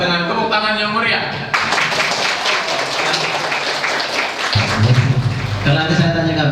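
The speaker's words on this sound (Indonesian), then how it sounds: "Kepada Ustaz Wawan dengan tepuk tangan yang meriah." An audience at a Qur'an teachers' training session claps briskly for a speaker, a burst of dense applause lasting a few seconds, framed by someone speaking through a microphone before and after.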